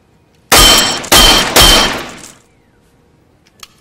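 Unbreakable glass pane shattering under an ultra-high-frequency sonic agitator ring, three loud close crashes in quick succession with tinkling debris trailing off, followed by quiet.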